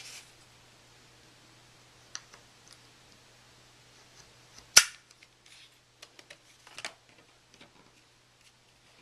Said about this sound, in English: I'm just going to take my little craft knife here and cut those edges off